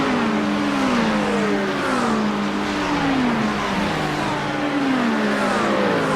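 A GT3 race car engine revs and climbs through rising gear sweeps in a Le Mans sim racing game, loud and continuous with repeated upshifts and no pauses.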